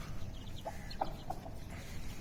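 A broody hen sitting on eggs gives a few soft, scattered clucks over a noisy, rumbling background, faint and close.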